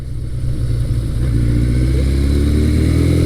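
A 1983 Suzuki GS1100L motorcycle with an 1100 cc engine accelerates on the road, its loud, steady engine drone rising in pitch and building in volume as it pulls, with no voices.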